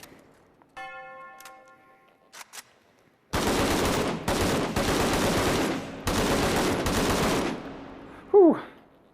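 An AKM rifle fires on full auto in a VR video game, unloading most of a magazine. A few faint clicks and tones come first, then four loud, sustained bursts of rapid gunfire, and a brief rising whine closes it.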